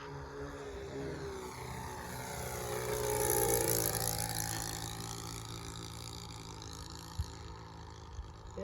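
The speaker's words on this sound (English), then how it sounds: "Gotta love that 4-stroke sound" The four-stroke engine of a Sig Four Star model airplane drones steadily, swelling as the plane passes closer and then fading slightly as it moves away.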